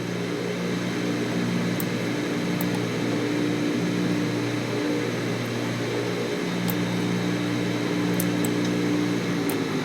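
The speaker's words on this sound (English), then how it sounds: "Alright, we'll start our APU." A Dash 8 Q400 auxiliary power unit running in the X-Plane 11 flight simulator, a steady, even mechanical hum and whine with no change over ten seconds, faint tick-like clicks on top.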